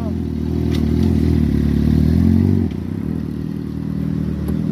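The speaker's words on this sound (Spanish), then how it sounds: "Amigo, ¿le puedes dar un acelerón?" A motorcycle engine revs loudly and close by, holds a throaty roar for a few seconds, then drops back to a rougher idle.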